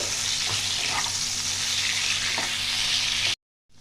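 Paneer pieces with a pinch of salt fry in a pan until light brown, giving a steady, close hiss of sizzling oil that cuts off abruptly near the end.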